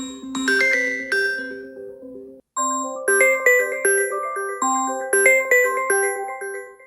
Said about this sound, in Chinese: 铃声音效